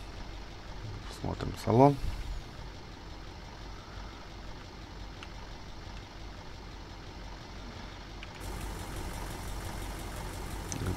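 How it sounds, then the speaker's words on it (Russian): A URAL-5557 truck engine in Farming Simulator 19 starts with a brief loud surge, then settles into a steady low idle that runs on under someone talking. "Заводится так мощно, прям четко, как и должно."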